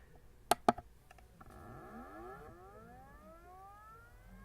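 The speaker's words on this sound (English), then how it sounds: "So now I'm going to turn this drive on." Two sharp clicks, then a rising whir as an old WD Green hard drive spins up, its pitch climbing steadily and settling into a quiet, steady hum.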